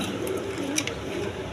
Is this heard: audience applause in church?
no